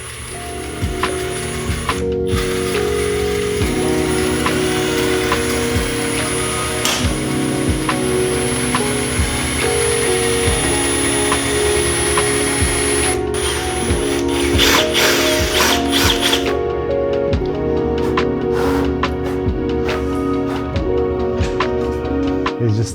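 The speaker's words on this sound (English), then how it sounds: "He's just cleaning up the edges using a bigger drill piece." A drill with a larger bit cleans up the edges of a carbon fiber subframe for a Ducati Panigale V4 SP2, giving a sustained mechanical whir with grinding, ratcheting textures and a few sharp clicks.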